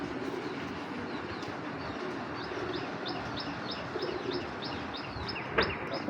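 Pet pigeons make a quick run of repeated light chirping calls, close and clear, over a constant low background hum.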